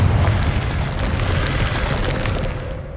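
A deep, booming blast from the Confringo fire spell in the Hogwarts Legacy video game rumbles loudly for several seconds and slowly fades.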